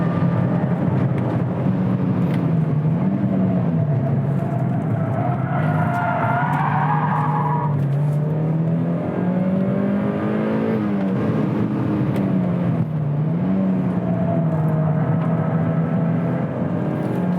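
A Mazda MX-5 MK3 NC circulates a race track with its engine note continuously rising and falling through gear changes and throttle lifts. Tires whine through the corners, and the sound stays loud and close throughout.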